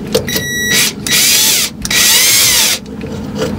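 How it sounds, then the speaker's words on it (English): A power drill whirs in loud bursts, spinning up, pausing briefly, then running again, close by with a woody grinding edge, while fitting an RV water pump. "help with my drill"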